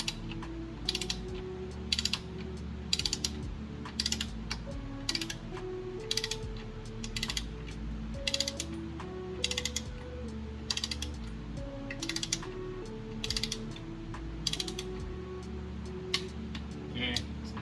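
Click-type torque wrench set to 19 foot-pounds tightening clutch pressure plate bolts in a crisscross pattern on a Honda H22 engine, repeated sharp ratcheting clicks in short bursts at a steady rhythm, close up.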